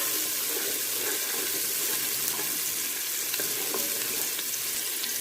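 Chopped onions fry in a little oil, giving a steady close sizzle with occasional scrapes and clicks as they are stirred around the pan.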